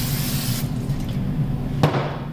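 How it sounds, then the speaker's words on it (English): Brake cleaner sprays onto surfaces of a Hyper 9 inverter being prepped for an EV conversion. A close, steady hiss stops partway through, then a short burst follows. "grab some of your brake cleaner"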